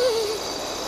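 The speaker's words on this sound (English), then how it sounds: "Every once in a while, another owl would call out." A single owl hoot in a bedtime story, one short clear call that fades out quickly and stands alone without talk.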